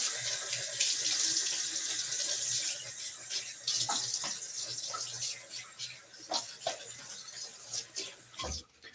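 A bathroom tap runs steadily into the sink while someone rinses off after a wet shave. The flow starts full, then eases and breaks into splashes and drips as it is shut off.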